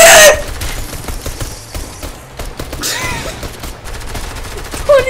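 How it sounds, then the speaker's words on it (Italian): Assault rifle gunfire in Fortnite, bursts of rapid shots rattling close and loud, broken by other game sounds. "Spara con l'assalto."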